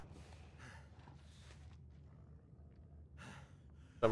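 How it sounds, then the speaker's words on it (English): Game character in The Long Dark gasping for breath: a series of quiet, breathy gasps and sighs spaced a second or so apart over low background hum, ending in a brief sharp noise. "I'm kind of waiting for the gasping noises he's making to go away."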